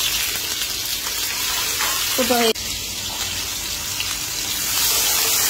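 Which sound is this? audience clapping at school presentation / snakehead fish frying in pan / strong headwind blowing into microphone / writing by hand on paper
snakehead fish frying in pan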